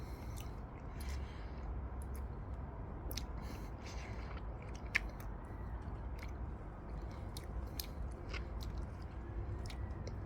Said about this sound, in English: I'm gonna eat the whole mango.